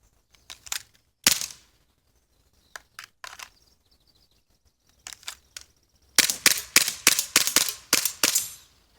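Elite Force Glock 17 airsoft pistol fired in draw-and-fire practice: sharp, close snapping shots, a few spaced singles and pairs early on, then a fast string of rapid shots near the end.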